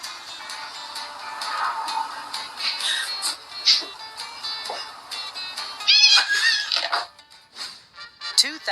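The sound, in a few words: cat meowing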